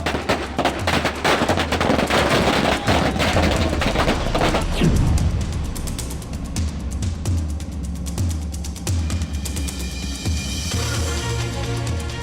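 Dense, rapid crackling bangs of firecrackers burst loudly for several seconds at an election-result celebration in West Bengal, then thin out into scattered pops against a noisy outdoor background.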